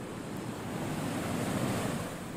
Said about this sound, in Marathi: ओढे आणि नाले तुडुंब भरून वाहू लागले.